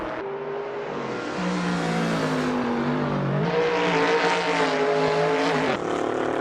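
Mitch Hamilton's big Falcon race car in Assetto Corsa roars steadily as it corners, engine pitch climbing and dropping through gear changes, with other cars droning close by throughout.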